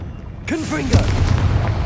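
A voice shouts briefly, then a Confringo fire spell bursts in Hogwarts Legacy with a sudden, loud whoosh and boom. A rumbling, crackling tail follows up close.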